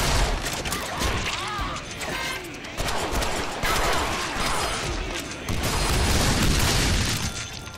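Dense bursts of gunfire and booming blasts fill a Deadpool video game fight, loud and continuous with repeated heavy impacts.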